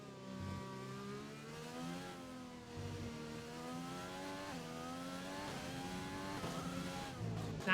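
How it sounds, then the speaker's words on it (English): Race cars engines downshifting and braking into a corner on a racing circuit, repeated rising and falling engine notes with gear changes, heard from moderate distance with no talk. "Loving the sound of the cars coming to the braking zone."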